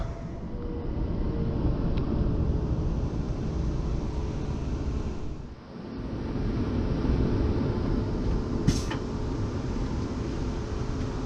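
Steady broadband rumble inside a train travelling toward Kettering on a Wellingborough to Northampton route via Leicester, continuous and fairly loud with a brief dip midway and a short high squeal near the end, no talk.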